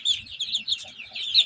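Chicks hatched under a flock of forty hens, chirping in a dense, continuous high-pitched chatter with a few softer low clucks underneath, close and steady.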